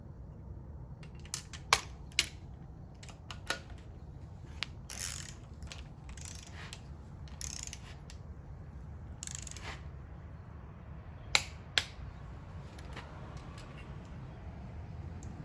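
A socket ratchet works on the engine of a 1954 Kaiser Darrin during assembly, giving close, quiet runs of clicking and scattered metallic clanks over a low background hum for about fifteen seconds.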